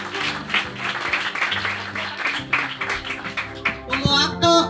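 Applause and clapping from guests at a fifteenth-birthday celebration, steady patter of hands with voices and someone talking over it.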